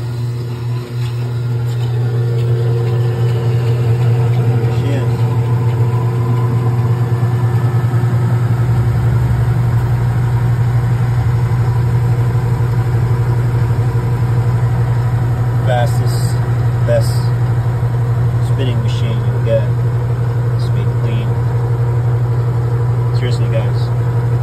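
A Speed Queen top-load washer, model AWN412SP111TW01, spins after a new belt is installed, giving a loud, steady, low motor drone with faint mechanical rattles throughout.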